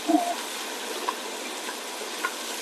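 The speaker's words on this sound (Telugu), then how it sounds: "అల్లం పేస్ట్ నేను తిప్పుతానే ఉంటాను పచ్చి వాసన పోయేదాకా" Ginger paste fries and is stirred in a pan as a first step for mutton biryani, a steady close sizzle with a few faint scrapes and no voices.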